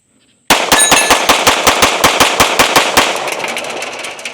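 A Mossberg MC2C pistol fires a fast string of about fifteen sharp, loud shots at close range, evenly spaced, the last report ringing away into silence.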